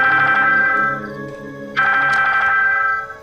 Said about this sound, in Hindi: रोहित का फोन स्पीकर पर लगा